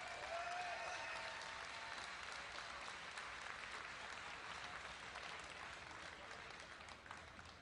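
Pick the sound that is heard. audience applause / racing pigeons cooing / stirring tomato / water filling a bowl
audience applause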